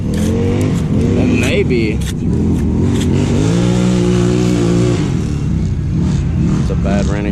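A nitro RC truck fitted with a Renegade engine, struggling to start while it is cranked. A loud, steady, buzzing whir runs close up throughout, and someone talks briefly over it.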